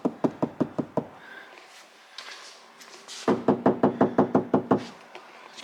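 Knuckles rap on a Ford Kuga Vignale car door lined top to bottom with Dynamat, giving dull, damped knocks: a quick run of about six, a pause, then a longer even burst of roughly eleven, close and clear.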